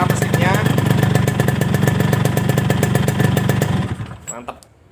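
A restored 1992 Yamaha RX King two-stroke motorcycle engine runs loud and close with a steady, rapid buzzing pulse for about four seconds, then cuts off and fades into quiet with a few faint noises.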